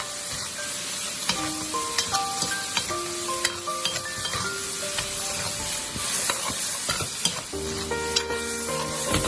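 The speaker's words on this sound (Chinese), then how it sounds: "继续的翻炒均匀，把鸡肉炒至上色" Chicken stir-fried in a wok with light and dark soy sauce, a steady sizzle under continual scraping and tossing strokes, close and fairly loud throughout, with no voices.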